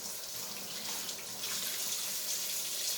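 Tap water runs steadily over corned beef being rinsed in a kitchen sink, a soft continuous hiss and splash with no one speaking.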